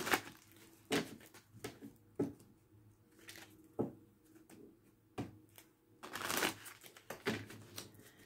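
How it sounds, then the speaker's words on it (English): Tarot cards shuffled by hand, heard as a series of sharp riffling bursts spaced irregularly, with quieter rustling between them and no talking. "Let's get a proper shuffle."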